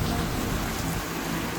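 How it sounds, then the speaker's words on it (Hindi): Heavy rain pours down steadily, a dense continuous hiss and patter with a faint low rumble underneath, loud and close throughout with no talking. "जोरों की बारिश।"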